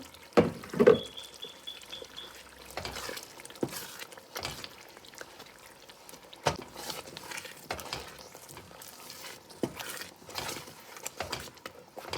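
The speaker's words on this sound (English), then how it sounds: "So this is the smoked bell pepper, tomatoes, carrots, ginger, and onions. I'm just pouring it now." Blended smoked bell pepper, tomato, carrot, ginger and onion sauce is poured into a pot for Nigerian chicken wing stew, with faint irregular splashes, soft sizzling and scattered clunks.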